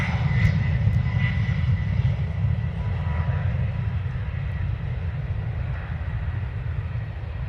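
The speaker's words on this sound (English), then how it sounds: "Iceland Air landing on the other side." An Icelandair airliner lands at Dublin Airport, a steady, continuous engine roar with a strong low rumble that holds at a fairly even, loud level throughout, with no talking.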